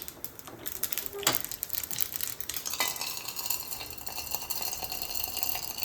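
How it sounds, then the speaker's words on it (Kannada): Crushed garlic tipped into hot oil tempering for nellikai (gooseberry) rasam, with a dry chilli: close, steady sizzling and frying with clinks of a spoon stirring against the pan, loud throughout. "ಬೆಳ್ಳುಳ್ಳಿ ಇದೆಲ್ಲ ಜಜ್ಜಿಟ್ಟದ ಬೆಳ್ಳುಳ್ಳಿ ಉಂಟು, ಇದನ್ನು ಹಾಕ್ತೇನೆ"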